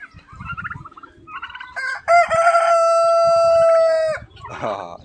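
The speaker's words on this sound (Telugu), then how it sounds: "ఇవి ఒక రకమైన మమ్మల్ని లేపుతున్నాయి అనమాట ఇవి కోళ్ళు" Roosters crow in a village in the early morning, one long loud cock-a-doodle-doo standing out clearly amid softer clucking and other fowl calls nearby.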